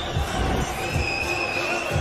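Crowd noise at a boxing match as spectators cheer the ring girl, a dense, steady roar of voices with muffled low thumps running underneath for the full length.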